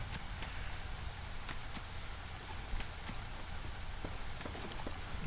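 Steady drizzling rain in the video game Against the Storm, a constant soft patter with scattered drop taps and no voices.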